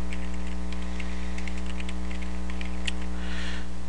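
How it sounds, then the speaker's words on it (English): Computer keyboard keys tapped while entering a password, a steady run of light clicks with short pauses over a constant low electrical hum. "And then we're going to type in our password."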